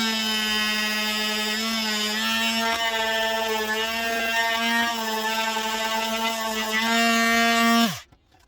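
A rotary power tool whines steadily for about eight seconds while cutting back plastic trim to fit inside an electric car conversion, with a buzzing, harmonic-rich tone that wavers slightly under load before spinning down abruptly at the end.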